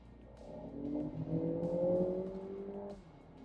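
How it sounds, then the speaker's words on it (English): A 2023 Lexus RX 500h F Sport's four-cylinder turbo engine revs up under acceleration. A smooth, rising drone builds for about two seconds, then eases off and cuts out, heard clearly with no talk. "It's really hard to make a 4-cylinder turbo sound good,"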